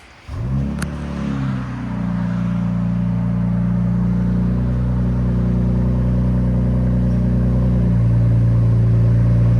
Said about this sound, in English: 2025 Ram Hurricane 6-cylinder. Here we go. Straight pipe.